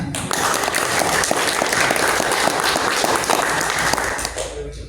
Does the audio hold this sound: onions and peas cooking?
no